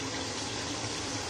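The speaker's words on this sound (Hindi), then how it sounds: "अब इसमें हम पानी ऐड करेंगे।" Water poured into a pot of fried masala while cooking haleem gives a steady, soft gushing splash that continues through the moment without a break.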